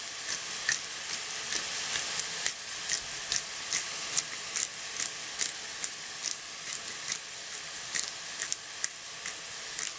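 Steady rapid crunching of a hand pepper mill grinding black pepper for a homemade bolognese sauce, many quick gritty grinds in a row, close and fairly quiet with no talk.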